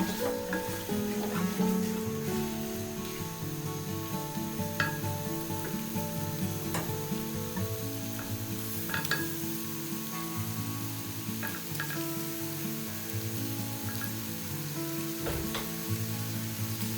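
Chopped tomatoes sizzle steadily in a pan of cashew chicken curry, a continuous moderate frying hiss running through with faint scrapes and clinks of stirring, no voices.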